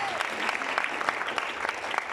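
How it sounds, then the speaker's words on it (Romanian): Audience applause at a humanitarian concert for Romanians of the Odessa region, dense steady clapping from a crowd that carries on evenly through the whole stretch with no pauses. "Haideți să aplaudăm și mai tare, și mai tare, și mai tare, și mai tare!"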